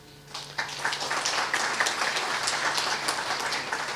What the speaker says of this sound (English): So please do give yourself a round of applause